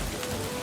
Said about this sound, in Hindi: बादल गरजने लगता है और बारिश तेज हो जाती है।